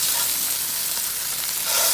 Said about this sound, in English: Cooking an electric skillet here